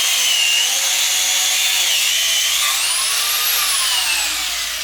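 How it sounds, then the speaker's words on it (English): A power tool cuts off a power steering pump pulley in a workshop during an LS engine swap into a Miata. A loud, piercing grinding whine runs nonstop, rising and falling in pitch as the blade bites, with no talking. "he's got to cut his pulley off"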